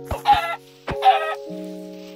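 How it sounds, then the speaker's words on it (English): Clucking from a chicken in the video game Minecraft, two short clucking bursts close and clear against a steady electronic background tone. "what if it was a chicken that I heard? It was that chicken."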